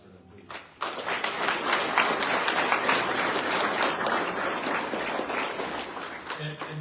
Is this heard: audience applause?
yes